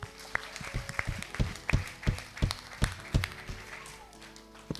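A congregation claps at an Easter children's gathering in church, the applause coming as uneven, moderately close bursts of handclaps that stay fairly light.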